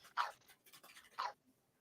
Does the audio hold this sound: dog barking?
yes